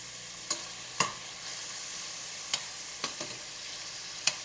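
Onions sautéing in a pan, a constant close sizzle punctuated by half a dozen distinct spoon knocks and scrapes as they are stirred, no voices.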